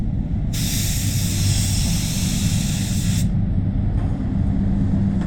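A paint spray gun applies PPG car paint in a respray, giving a loud, close, steady hiss for roughly three seconds over a constant low booth rumble, followed by a fainter spray burst.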